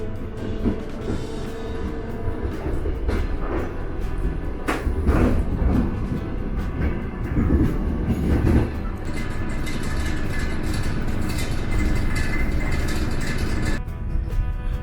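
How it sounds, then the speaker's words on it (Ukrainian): An electric commuter train rumbles steadily along a single-track line through residential areas near Kyiv, a continuous low roar with rattling wheels, close and fairly loud throughout. "Далі електричка рухається по одноколійній дільниці через приватні сектори."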